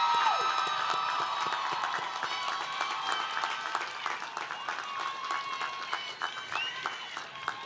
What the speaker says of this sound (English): one last final round of applause to our graduates